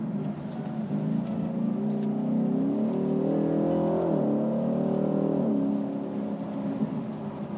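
Ford Mustang with a 10-speed automatic downshifting via paddle, the engine note swelling and climbing in pitch mid-clip before settling, heard from inside the car.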